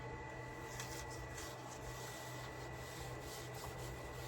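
Sawdust is wiped off a cabinet countertop inside a camper van conversion, giving a soft, steady rubbing and brushing texture that stays quiet and continuous throughout.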